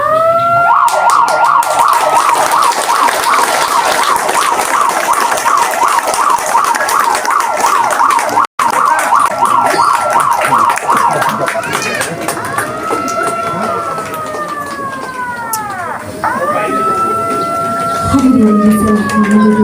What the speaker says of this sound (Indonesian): Mengenang detik-detik proklamasi ditandai dengan penekanan tombol sirine